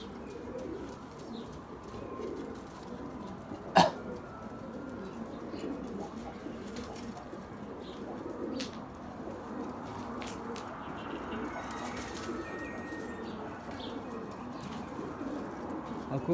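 Pigeons kept by a hobbyist breeder coo softly in the background, low murmuring calls with occasional chirps and a brief flutter, fairly distant under faint ambient noise, with no clear talk.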